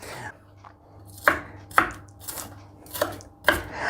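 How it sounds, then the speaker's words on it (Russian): An onion being finely chopped with a knife on a board makes five sharp, close knocks at irregular intervals over quiet background. "Лук режем достаточно мелко."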